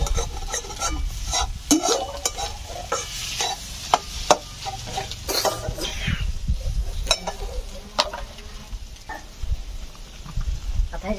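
Eggs for bhurji sizzle in a pan while a spoon stirs and scrapes them repeatedly, a continuous close frying hiss with clacks of the spoon, and a voice talks over part of it.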